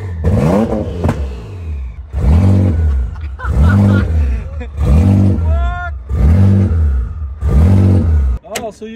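A tuned car engine idles close by with a lumpy, loping rhythm, swelling in about six loud surges that rise and fall roughly every second and a half.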